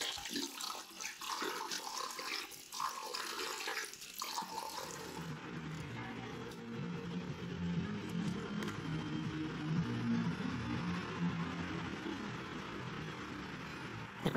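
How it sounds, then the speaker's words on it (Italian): A bathroom tap runs steadily into a sink as someone rinses their face, a continuous close splashing water stream with no talking. "Dai, sciacquati il viso."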